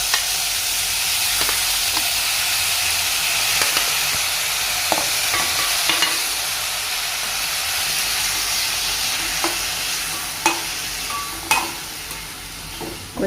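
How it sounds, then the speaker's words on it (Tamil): Chopped tomatoes with finely cut curry leaves sizzle steadily in a hot pan for a tomato gravy, with occasional scraping clicks as they are stirred, close and continuous. "அப்புறமா இந்த நறுக்கி வச்சுருக்க தக்காளியை அதில் போடுறேன்."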